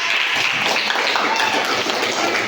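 Classroom applause from students after a lesson with a teacher, a dense steady patter of many hands clapping together, close and bright, holding evenly for a couple of seconds.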